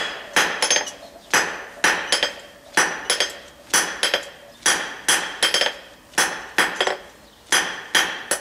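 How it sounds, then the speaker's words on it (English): A hammer strikes a punch made from a lawnmower shaft to punch a hole in metal. The blows fall in a steady rhythm, roughly two per second, with bright metallic rings, close and loud, and no voices. "punching a hole in one of those."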